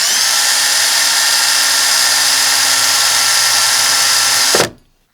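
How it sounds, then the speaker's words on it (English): A power drill spins to straighten a length of Kanthal coil wire held taut with needle-nose pliers, giving a loud, steady, close whir that runs for several seconds and then cuts off sharply. "And you just want to spin up the drill for a few seconds."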